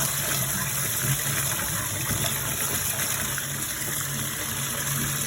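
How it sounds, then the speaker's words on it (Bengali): Fish is rinsed under a running tap in a kitchen, water gushing steadily and close with a constant splashing hiss, and no one speaking. "এখন ধুয়ে নিচ্ছি কলে।"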